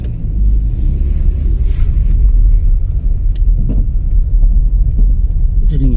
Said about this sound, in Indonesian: Jadi ngikuti mobil itu untuk parkirnya